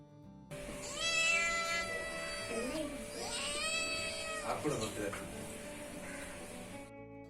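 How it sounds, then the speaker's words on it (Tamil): A cat meows around a house, giving several long, wavering meows close by, one after another, over a faint steady background hum. "பூனை பார்த்தீங்கன்னா நம்ம வீட்டையே சுற்றி சுற்றி வந்துட்டுருக்கு"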